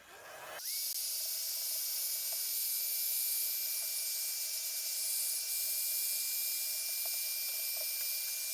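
Heat gun or hair dryer blowing hot air onto a natural leather steering wheel cover for a Volkswagen Tiguan 2G, switching on abruptly and then holding a loud, steady, close airy hiss to the end.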